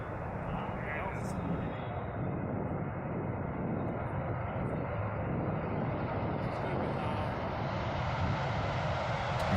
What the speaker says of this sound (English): And I believe this is F-18's taking off.